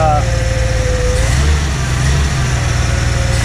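The engine of a 1977 Dodge Power Wagon truck idles steadily and loudly up close, a continuous low rumble with a faint whine over it.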